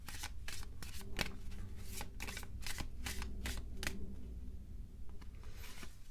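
A tarot deck is shuffled by hand, giving a run of crisp riffling and flicking card sounds in uneven bursts, close and fairly quiet, without talk.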